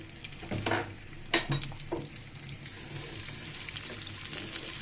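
Onion and garlic hit hot oil in a pan for a jute-leaf dish, a steady close sizzle with a few louder stirring scrapes early on.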